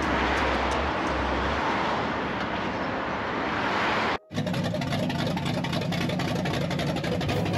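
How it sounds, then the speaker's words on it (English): A Chevrolet C10 longbed truck engine runs with an open header, giving a steady, loud, close idle rumble that briefly cuts out and then continues rougher and fuller. "With it running, we can unload it off the trailer. Ooh, it still sounds good with that open header."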